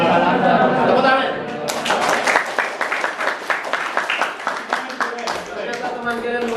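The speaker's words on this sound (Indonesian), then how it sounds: "Tepuk tangan." Students in a classroom musyawarah teaching-practice session break into applause, a dense burst of rhythmic hand clapping that starts after a moment of voices and carries on steadily to the end.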